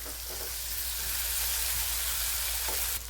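Finely chopped green chilli, garlic, ginger and coriander sauté in a pan over low heat for anda bhurji, giving a continuous hissing sizzle with a few soft stirring sounds, steady and close.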